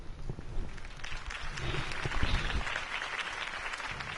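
In the video game Batman: The Telltale Series, a crowd claps and cheers steadily at a campaign speech, a dense wash of applause holding at moderate loudness throughout.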